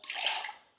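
Water squeezed from a soaked wash mitt during a rinseless wash of a Porsche Cayman 718 GTS 4.0, a single short close splash and trickle that fades away within a second.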